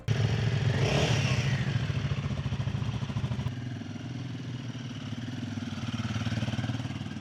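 A scrambler motorcycle with twin exhaust pipes runs on the road in India, its engine giving a steady close throbbing drone that revs up early and then settles into a continuous lower rumble.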